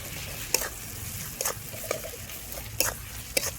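Ground spice paste with salt, turmeric and green chillies cooks in a pan, a low sizzle broken by sharp stirring scrapes about every second, near and fairly clear.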